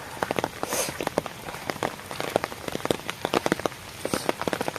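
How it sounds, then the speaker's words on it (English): Rain falls outdoors in a rural village, drops patting and splashing irregularly on a nearby surface in dense, close taps, with no talking. "Now it's raining."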